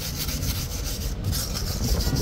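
Steady, close abrasive rubbing of sandpaper along a wooden mast, a continuous, fairly loud scratchy hiss with no speech.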